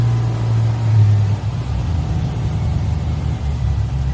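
An LS-swapped El Camino with a cam and an untuned engine idles, a loud, close, lumpy rumble with a choppy uneven beat that holds steady without any talk.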